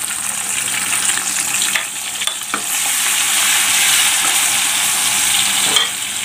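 Garlic, green chili and dried fish frying lightly in oil, a loud continuous sizzle with occasional stirring scrapes, no voices.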